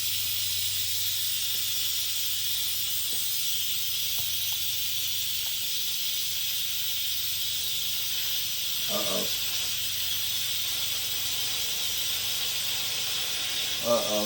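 A constant broad hiss of steam escaping from a pot of chili soup runs throughout, with a few faint clicks and brief clatters near the end.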